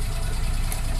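A three-cylinder car engine idles steadily, a continuous low rumble with a faint rattle from ticking valves, close by and with no voices.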